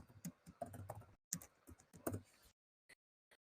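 Fast, uneven bursts of computer keyboard typing as answers are entered into a chat interface, close and clear, stopping abruptly with two isolated keystrokes after a pause.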